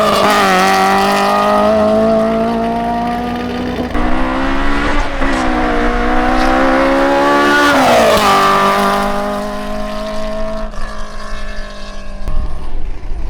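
A light, rear-wheel-drive Toyota Starlet with a swapped-in Honda S2000 engine revs hard and loud up close, its pitch climbing and falling through repeated high-rpm pulls.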